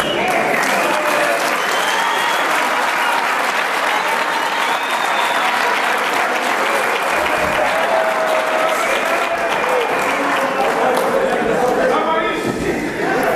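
A large audience at a book launch applauds warmly and continuously for over ten seconds, dense steady clapping filling the hall without pause, with faint murmured voices mixed in near the end.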